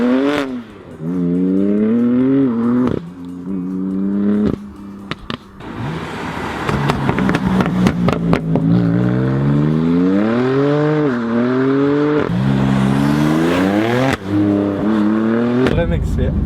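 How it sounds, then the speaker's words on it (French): A 1967 Chevelle V8 engine revs up and down repeatedly, with rising and falling pitch sweeps over a steady rumble, loud and close, while someone talks excitedly over it. "Et je suis à 1000 tours minute, les gars. T'imagines le bruit qui est fait à 1000 tours minute."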